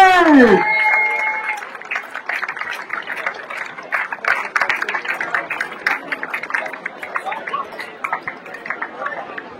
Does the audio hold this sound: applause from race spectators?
yes